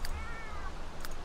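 A cat meows once in The Sims 3 game, a short, clear, moderately faint call standing alone with no talk over it.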